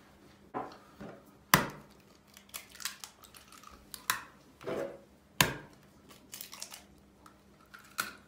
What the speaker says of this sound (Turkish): İki tane de yumurta kırdık.